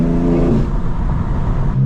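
A BMW M4 G82 fitted with catless downpipes and aftermarket air intakes revs hard, its engine note rising and then settling into a loud, raspy, open drone, close and with no one speaking.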